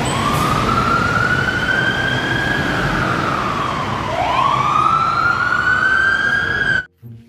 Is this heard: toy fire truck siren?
yes